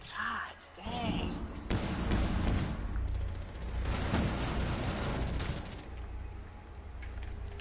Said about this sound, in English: Bullets were flying into my body from so many angles